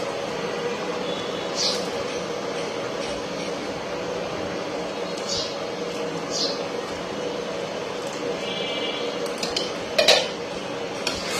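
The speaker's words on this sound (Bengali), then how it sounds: "আবার একটু নাড়িয়ে ছেড়ে নিব" Mango pickle with cut dried red chillies being stirred in a pan, with a few scrapes and clinks of the spoon over a steady background hum.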